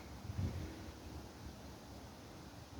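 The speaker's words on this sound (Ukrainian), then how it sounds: "І сьогодні трошки є такий вітер." Steady broadband wind rush outdoors, a soft continuous roar with a slight gust near the start, no voices.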